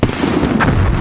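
Fireworks at a launch zone in the Wii Sports video game crackle and burst in a dense, loud, continuous wash of sound, with a sharper pop partway through.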